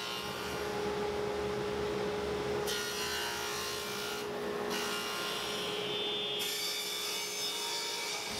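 A saw cuts a 3/4 inch dado into wood for a barn door night stand, giving a steady, faint, continuous rasping whir that shifts slightly in texture partway through. It sounds distant and unbroken.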